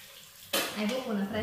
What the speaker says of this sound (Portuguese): Vou colocar um pouquinho de água a mais